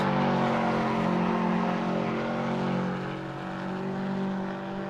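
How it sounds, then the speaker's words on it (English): An Audi or Toyota race car engine in the racing game Assetto Corsa drones with a deep throaty tone, steady and loud, easing slightly in pitch midway as it carries on without voices. "the exterior sound is really cool of this car"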